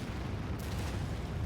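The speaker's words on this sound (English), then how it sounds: "Let's use the nuke. Nuclear missile." A nuclear missile detonates in Anno 2205, a broad, sustained explosive rumble that swells with a bright burst partway through and keeps roaring, loud and alone.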